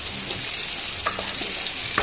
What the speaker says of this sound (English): So I'll fry the potato for some time now.